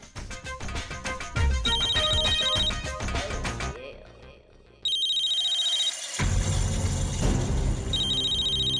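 A phone ringtone chimes repeatedly in short melodic bursts over music, briefly dropping out before resuming, loud and close.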